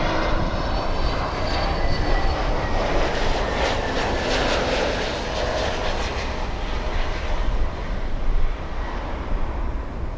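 Lufthansa flight LH462, an airliner arriving at Miami International Airport, passes with a loud, sustained jet engine roar that swells and fades gradually over about ten seconds, with no talk.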